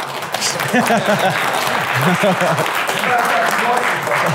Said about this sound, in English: Applause now. Keep it going.